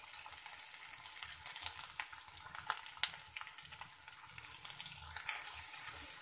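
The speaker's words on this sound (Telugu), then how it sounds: "ఆయిల్ వేడెక్కాక కరివేపాకు, ఉల్లిపాయ ముక్కలు, పచ్చిమిరపకాయ ముక్కలను వేసుకోవాలి" Curry leaves, chopped onion and green chilli frying in hot oil, a bright, steady sizzle with crackling pops and occasional stirring.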